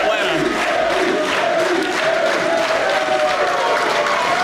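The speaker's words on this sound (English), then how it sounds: "he gets a great response from this crowd here in Atlanta" A wrestling crowd in Atlanta roars and cheers steadily throughout, a dense wash of shouting voices with some clapping, loud and continuous with no gaps.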